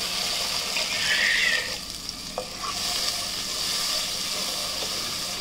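Water kept from rinsing the mixer jar goes into a simmering gravy in a pan, giving a continuous bubbling hiss with a short burst of pouring and a few light utensil clinks.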